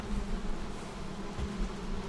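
Bees buzzing around a beehive in the Valheim video game, a steady, faint droning hum that holds without a break throughout.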